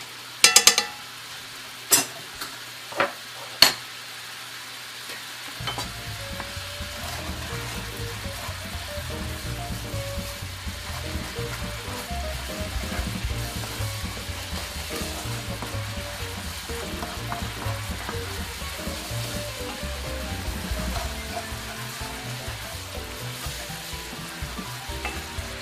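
Steaks (T-bone, NY strip and tenderloin) sizzle steadily in a hot pan after a few sharp clinks of a utensil; butter is added and melts into a continuous close, loud fry.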